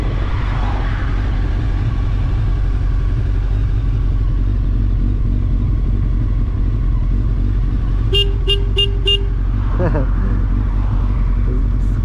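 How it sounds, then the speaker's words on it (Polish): Over a rumbling idling Honda MT-10 motorcycle engine, its horn gives a quick run of four short honks, then the engine revs briefly. "Klakson jest."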